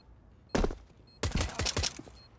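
Gunfire in Counter-Strike: Global Offensive, two loud bursts of shots, a short one and then a longer rattling volley, close and sharp against a quiet background.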